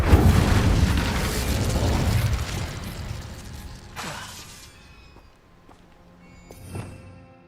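An Incendio fire spell cast in Hogwarts Legacy on PS5 bursts out as a loud roaring whoosh lasting a few seconds. It fades away, followed by a few fainter pops and a last small burst.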